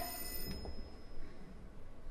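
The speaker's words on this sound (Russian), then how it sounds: "Значит, из мэрии из мэрии я узнаю такой продолжительный звонок." A telephone bell rings in a long continuous ring during a staged reading of Ionesco's Rhinoceros, fairly faint and steady, with a few soft knocks at the start.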